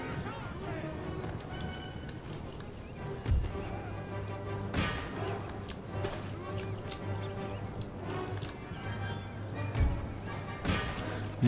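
Cavalry horses in the battle game Empire: Total War, hooves clip-clopping steadily amid battle noise with occasional whinnies, a voice talking over much of it.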